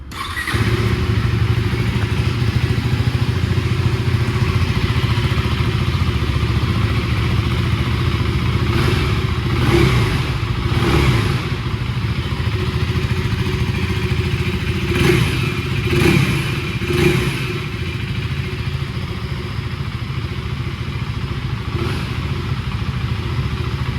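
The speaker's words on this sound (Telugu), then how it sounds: "ఒకసారి స్టార్ట్ చేసి మీకు ఎగ్జాస్ట్ నోట్ అయితే వినిపిస్తాను, వినండి" A 2024 KTM Duke 390 motorcycle idles steadily after starting, its exhaust note a loud, continuous low rumble close up, with a few brief blips and clattering knocks partway through.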